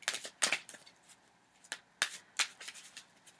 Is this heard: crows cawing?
no